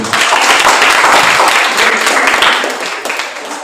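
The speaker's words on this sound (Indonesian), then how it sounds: "Kita tepuk tangan dulu." Audience applause for school fashion show contestants at a regional costume competition, a dense, loud wash of many hands clapping that holds steady and then tapers slightly toward the end.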